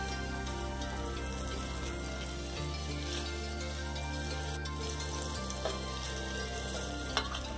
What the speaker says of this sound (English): I start cooking the gravy by sauteing the chopped garlic